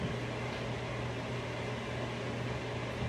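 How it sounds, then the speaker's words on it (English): A microwave oven runs with a steady, even mechanical hum and fan whir, constant and uninterrupted. "I'm gonna make this in the microwave."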